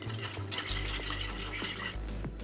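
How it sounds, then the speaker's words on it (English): Brownie batter being whisked with a fork in a bowl, a quick rhythmic scraping and tapping over a low background hum, close and continuous for a couple of seconds. "I don't have a whisk, so we're just gonna use a fork"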